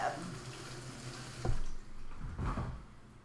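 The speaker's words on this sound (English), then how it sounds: "Rinse off your avocados, guys." Tap water running into a sink while avocados are rinsed under it, a steady soft splashing with a couple of louder surges, close and moderately quiet.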